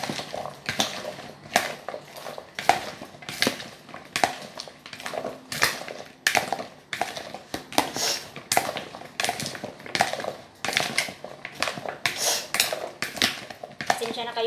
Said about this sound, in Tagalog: And mix until the salt dissolve and until coated with the oil and the vinegar.